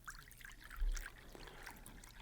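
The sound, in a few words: coffee being poured into cups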